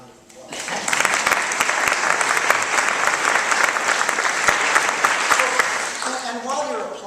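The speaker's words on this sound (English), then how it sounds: "Give Heidi another round of applause." A large audience at a talk bursts into sustained applause, a dense, loud wash of many clapping hands that holds steady for several seconds before a speaking voice cuts in at the close.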